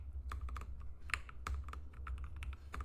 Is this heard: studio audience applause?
no